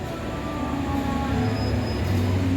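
Locomotive-hauled passenger train passing through a station in Indonesia at night, a loud continuous rumble of wheels and cars with sustained tonal squeals and hum, close by.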